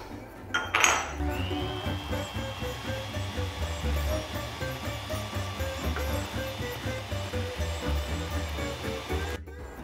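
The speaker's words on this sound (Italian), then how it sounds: "Aggiungiamo i 200 g di zucchero e iniziamo a montare" Egg yolks being beaten with 200 g of sugar in a bowl for a ciambellone: a steady, close whirring and scraping with light clinks against the bowl, running continuously without pause.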